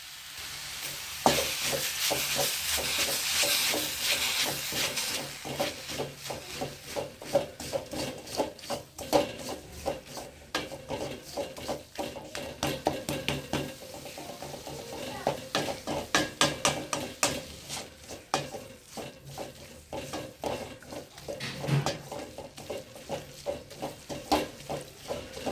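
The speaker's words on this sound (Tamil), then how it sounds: "இப்போது தேவையான அளவு ஜாகரி போட்டு அகைன் வதக்குங்க." Steady scraping and stirring of carrots and jaggery in a pan, with soft sizzling underneath and occasional clinks of a utensil, no talking.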